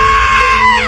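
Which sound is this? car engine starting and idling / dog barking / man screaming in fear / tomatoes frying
man screaming in fear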